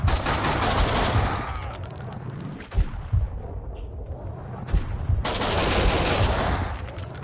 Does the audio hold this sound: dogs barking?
no